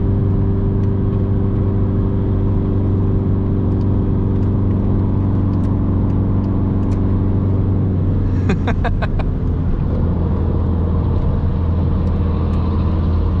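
Engine of the Ring Tracktor cruising in fifth gear, a steady, loud mid-pitched drone with a constant hum that holds throughout, joined near the end by a brief burst of light rattling clicks.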